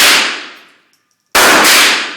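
Two loud, close gunshots from a .38 caliber handgun at an outdoor gun range, each a sharp crack with a long fading tail, separated by about a second of near silence.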